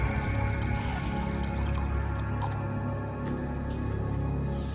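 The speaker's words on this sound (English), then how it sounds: "The magician pours the water into the mug." Water poured into a mug for a magic trick, a steady liquid trickle and drip running continuously and fairly close.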